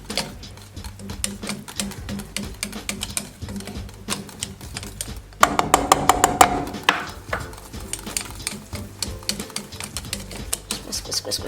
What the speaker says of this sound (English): Whisk, whisk, whisk, whisk, whisk, whisk, whisk.